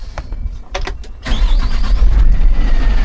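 A terminal truck's engine is cranked after a few clicks and switch sounds, then catches and settles into a steady, loud low idle close by.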